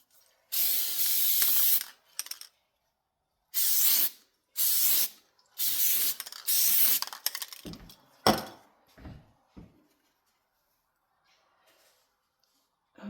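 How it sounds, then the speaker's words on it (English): Spray adhesive hissing in several short bursts onto a fabric patch for upcycled boro-style jeans, each spray a sharp loud hiss about a second long, followed by rustling and handling of fabric. "So spray that bit and on it goes."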